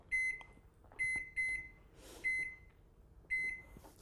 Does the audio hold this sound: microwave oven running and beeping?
yes